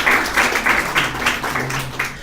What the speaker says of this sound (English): I like to give you guys a round of applause for him.